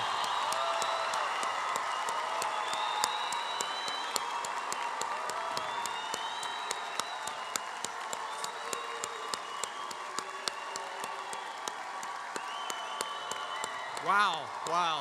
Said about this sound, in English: The biggest round of applause for your graduates on the count of 3.